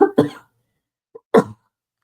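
Coughing fit during a presentation: three sharp, loud coughs in quick succession, then a brief soft throat sound and one final harsh cough, alone with no talking.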